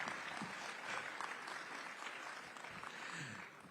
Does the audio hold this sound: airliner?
no